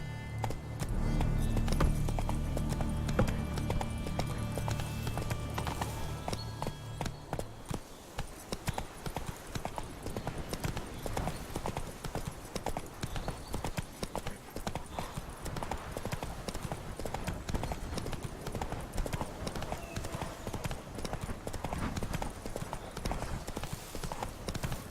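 Galloping hooves from The Witcher, a continuous fast clip-clop that carries on for the whole stretch at moderate level, with a musical swell fading out early on.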